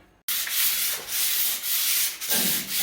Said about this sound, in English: my buddy Vince doesn't like to use a palm sander, so he made his own